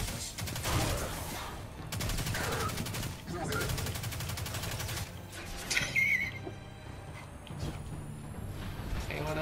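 Gunfire from the Destiny 2 video game rattles in dense bursts and repeated shots across most of the clip, with players talking over it.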